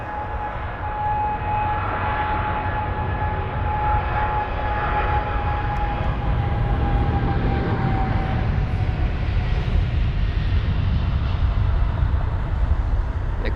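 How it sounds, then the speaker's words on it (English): A British Airways Boeing 777-200ER airliner departs London Heathrow for Riyadh with a loud, steady, broad engine roar and a faint whining tone, sustained throughout without voices. "This is the 777 200ER off to Riyadh, flight number BA263"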